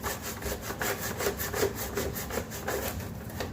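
A small wire brush scrubs back and forth inside a Ninja Foodi cooker pot, giving a steady, fairly loud rasping with rhythmic strokes close up and no talk.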